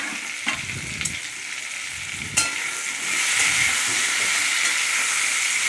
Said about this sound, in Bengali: আলুগুলো একটু ভালো করে ভেজে নিলাম